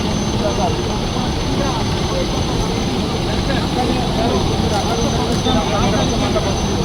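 Two helicopters fly over a flood rescue in Rajanna Sircilla district, a loud, unbroken engine and rotor drone that fills the whole stretch.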